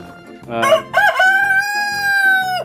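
Rhode Island Red or broiler breeding rooster on a chicken farm crowing loudly and close, one long drawn-out call with a few short clucks and bird calls just before it.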